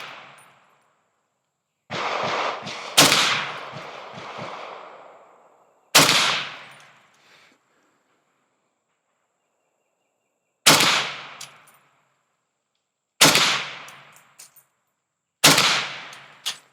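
An AK-103 rifle from Kalashnikov USA fires outdoors, with sharp, loud single shots spaced several seconds apart, each followed by a decaying echo, plus a short cluster of rapid shots early on.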